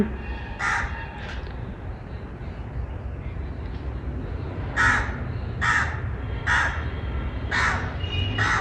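Crows caw repeatedly outdoors, two calls early then a series of five more evenly spaced caws, over a low steady background rumble.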